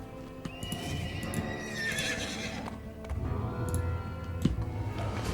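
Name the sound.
horse galloping in a video game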